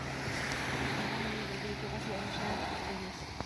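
A speed boat runs on open water off Cheung Sha, Lantau Island, a steady broad engine-and-wash roar with wind noise throughout, and people talk over it.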